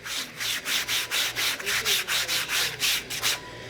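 Repeated rhythmic wiping strokes of a rag soaked in paint thinner (mineral spirits) rubbing black marks off foam in a drawer organizer, about a dozen quick even passes, close and fairly loud, no talking.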